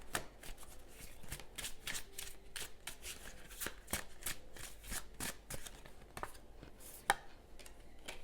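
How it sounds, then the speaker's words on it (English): Tarot cards being shuffled by hand, a quick irregular run of crisp slaps and riffles, close and fairly faint, continuing without pause and with no voices. "Okay, let's pull one more card."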